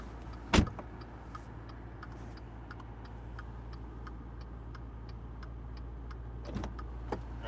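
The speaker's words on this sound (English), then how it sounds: "I'm going to close the door so you can actually hear the turn signal." Turn signal of a 2020 Maserati Quattroporte GTS GranSport ticking in a steady rhythm inside the closed cabin, faint clicks over a low idle hum, with a louder door thud near the start and another near the end.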